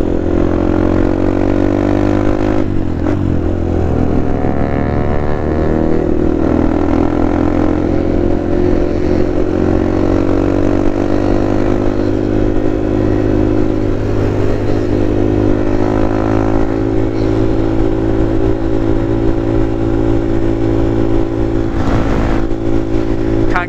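A motorcycle rides along a road with a steady, loud engine drone that rises and falls slightly as the rider changes speed, continuing for the whole stretch.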